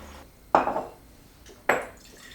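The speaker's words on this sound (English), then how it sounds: "I'm going to put new filtered water into these jars" Filtered water is poured into glass herb jars, heard as two short splashing pours about a second apart, each starting sharply and trailing off, close and fairly clear against a quiet room.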